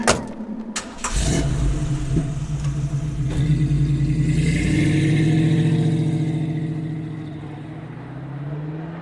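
A car engine starts with a sharp burst, then hums and rises steadily as the vehicle accelerates and drives off, loud and close, fading slightly toward the end.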